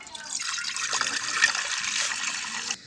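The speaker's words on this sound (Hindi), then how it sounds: "इसमें डालेंगे पानी," Water pours steadily into a pot for making desi tea in a Punjab village, a continuous bright splashing stream lasting a few seconds that stops abruptly.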